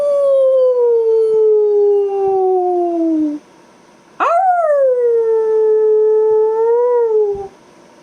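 A person's voice imitates a wolf howl in two long, loud wavering calls. The first slides slowly downward, then a short gap, and the second rises sharply before holding and falling away, with no other sound behind it.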